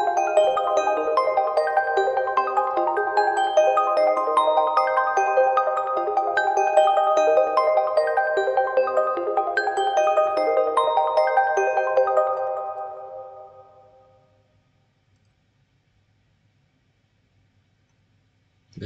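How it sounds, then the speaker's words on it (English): Bell synth patch from the Purity plugin in FL Studio plays a steady melodic pattern of overlapping tones for about twelve seconds, then rings out and fades to silence, with no talking. "bells from Purity."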